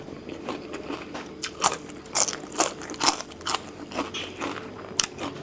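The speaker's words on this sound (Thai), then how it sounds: "ถั่วฟู กรอบ" Crunchy fried peanuts bitten and chewed up close, a series of sharp crisp cracks and crunches in an uneven rhythm, clear and unaccompanied by talk.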